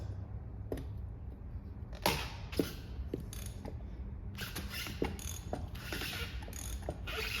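A hand ratchet slowly loosens a coilover spring compressor on an Audi A4 B5, giving close, crisp clicking bursts with short pauses between strokes, and no speech.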